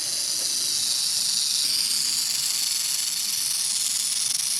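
A defensive snake hissing, found by a dog while reptiles leave their dens, a sustained loud breathy hiss that holds steady for several seconds, close to the microphone with no talking.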